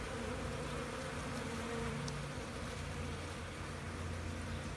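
Honeybees buzz close by in a soft, continuous drone, several wings humming together at a low, even level with no talking.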